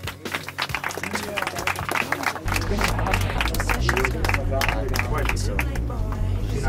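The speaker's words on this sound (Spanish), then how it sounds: "¡Hala, ese aplauso" A group of high-school students on a school trip to Atapuerca break into lively applause after a ritual song and dance, with dense rapid clapping mixed with voices and a steady low background hum.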